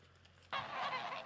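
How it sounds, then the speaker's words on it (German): Geese honk loudly and close on a farm in Albania, a sudden burst of calls that begins partway through and carries on without pause. "Ebenfalls draußen rumlaufen dürfen auch diese Gänse."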